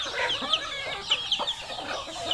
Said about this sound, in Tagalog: Sa konti na lang po yung manok ko.